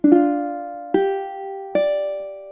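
Three plucked ukulele chords ring out one after another, each struck cleanly and left to sustain, forming measure 14 of a song at a slow, even pace, close and alone.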